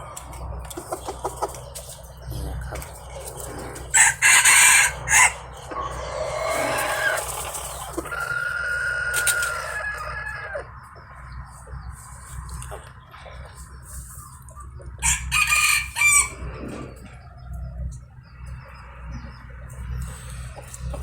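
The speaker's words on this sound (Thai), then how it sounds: "ขันเพราะนะครับตัวนี้" Young white-eared roosters crowing nearby, several loud drawn-out crows rising over clucking and wing flaps, with a quieter stretch between calls.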